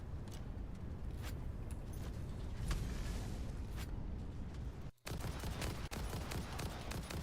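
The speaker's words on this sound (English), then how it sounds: "what actually is shooting me there?" Gunfire in the video game Satisfactory comes as repeated sharp cracks spread irregularly over a busy continuous game-sound bed, with a brief dropout near the end.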